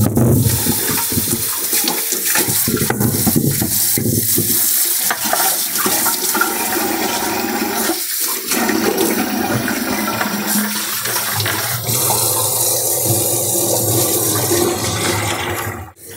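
An old earthen clay pot is rinsed clean with water, giving a loud, continuous rush of running and splashing water for about sixteen seconds with no one talking.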